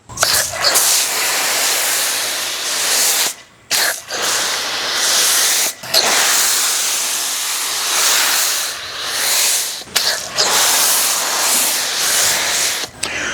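A foam sprayer hisses loudly onto a car door during detailing with soap, in long continuous bursts broken by brief pauses, close to the microphone and with no talking.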